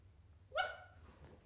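A single short, sharp bark from a puppy during jumping training, heard alone against a quiet indoor background.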